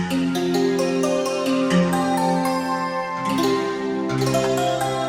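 Ambient synth texture of rapidly struck, santoor-like metallic notes ringing over sustained tones, with bright plucked flurries rising and falling.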